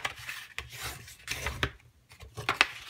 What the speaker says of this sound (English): So what you want to do is take all your lines and you want to score them facing inwards.